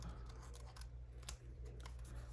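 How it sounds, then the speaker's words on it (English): Scissors snip through a small paper scrap for a collage page, with soft repeated close cuts and light paper rustle over a steady low hum, no speech. "Let's cut this out."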